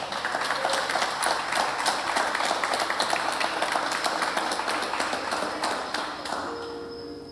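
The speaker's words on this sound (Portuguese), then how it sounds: "Você podia até aplaudir Jesus." A church congregation claps during a midweek faith service, a dense steady patter of many hands that holds loud for several seconds, then thins and fades near the end.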